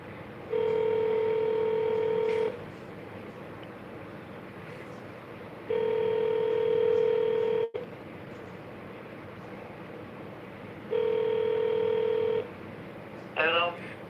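Three bursts of touch-tone telephone dialing while placing a call, each about two seconds of steady tones, with brief rustling and a short rising chirp near the end.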